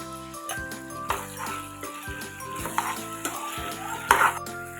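Whole garam masala spices, cloves, cardamom, a few peppercorns and cinnamon, sizzle in a hot pan while a spoon stirs and clinks against the metal, with a louder scrape near the end.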